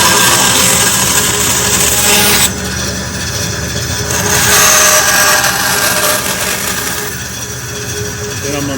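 A saw fitted with a 3/4 inch blade cuts aluminum for a truck bed, giving a loud, steady, harsh grinding whine that holds throughout, dipping slightly partway through.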